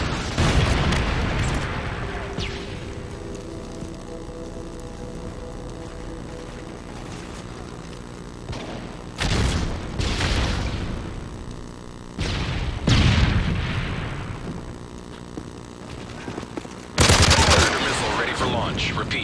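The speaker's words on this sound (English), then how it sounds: "Friendly Predator missile inbound." Predator missile strike and gunfire in Modern Warfare 3: a steady bed of game combat noise is broken by several loud broadband blasts and bursts, with the biggest impacts landing near the middle and at the end.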